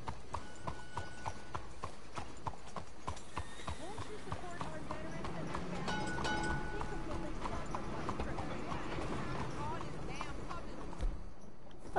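Hooves clip-clop in Red Dead Redemption 2, a steady plodding rhythm at moderate distance that runs under game ambience and a talking voice for about twelve seconds.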